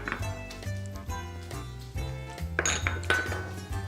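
Utensils clink and scrape against a pot or bowl while grated Parmesan is stirred into spaghetti carbonara, a run of irregular metallic knocks and rings close by, with no voices over them.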